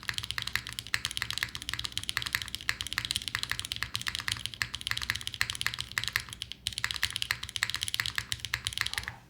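Fingers type on a mechanical computer keyboard fitted with 80-durometer springs, producing a fast, continuous run of crisp, close clicks and clacks. There is one short pause partway through, and no voices are heard.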